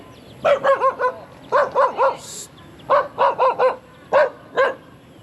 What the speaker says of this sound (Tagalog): May aso pa dito.